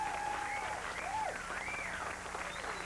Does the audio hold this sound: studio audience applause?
yes